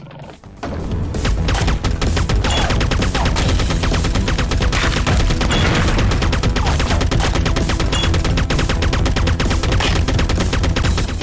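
Rapid, continuous gunfire from the video game Serious Sam: Tormental, loud dense bursts with thumps and booms running nonstop for over ten seconds after a brief quieter start.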